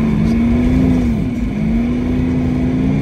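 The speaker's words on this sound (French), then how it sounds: "il fait un petit drift avec sa BM" A BMW car drifts and skids on a snowy road in cold Norway, its engine droning steadily at close range with a wavering revving pitch throughout, no voices.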